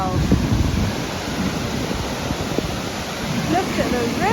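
Floodwater rushing in a swollen, overflowing river: a broad, continuous roar heavily buffeted by wind noise on the microphone, with voices speaking over it.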